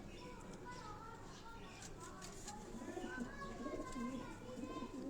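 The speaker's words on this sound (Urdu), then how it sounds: "یہ بھی سیالکوٹی بریڈ کے کبوتر ہیں" Sialkoti breed pigeons coo softly in low, rolling calls, growing louder toward the end, with faint background noise and occasional other bird sounds.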